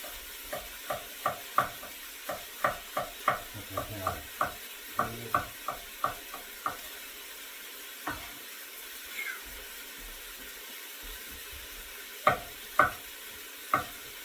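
Carrots, onions and celery sauté in a busy restaurant kitchen. A run of sharp, rhythmic stirring knocks and scrapes comes first, then a quieter gap, then a few more clacks over a low, faint sizzle.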